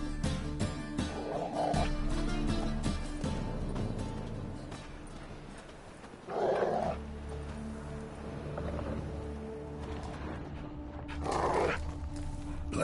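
Dogs in The Witcher 3 give several loud, rough barks and growls in bursts, set over a steady game ambience with low background music.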